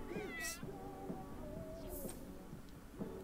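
A cat meows several times in The Sims 4 video game, short rising and falling calls close up and fairly soft, with a breathy noise burst between them.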